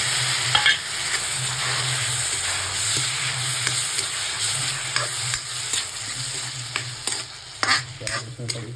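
Onions fry in a pan with a steady sizzle while a utensil stirs and scrapes them, producing irregular clinks and scraping bursts close by.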